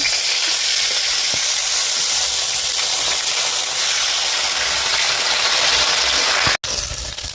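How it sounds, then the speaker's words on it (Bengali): Fish pieces rubbed with salt and turmeric fry in hot oil with a loud, steady, dense sizzle close by, and a brief sharp break near the end. "এবার মাছগুলো দিয়ে দেবো।"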